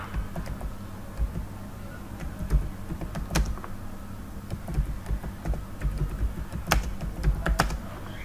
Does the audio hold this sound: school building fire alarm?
no